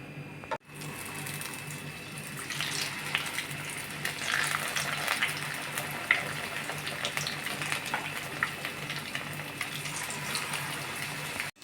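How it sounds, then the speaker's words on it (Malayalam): Cauliflower pieces deep-frying in oil for crispy cauliflower fry, a continuous dense bubbling sizzle that holds steady at a moderate level throughout, with no talking. "ഇനി അടുത്ത സെക്ഷൻ കോളിഫ്ലവർ കൂടി ഇട്ട് ഫ്രൈ ചെയ്തെടുക്കുക"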